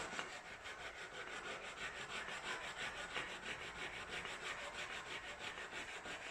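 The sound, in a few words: stab sharpening a knife on a whetstone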